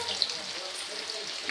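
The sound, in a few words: garlic frying in hot oil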